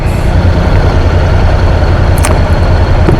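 Heavy road traffic rumbles loud and close around a rider on a quiet Honda motorcycle, a steady low engine and tire roar with a brief hiss partway through.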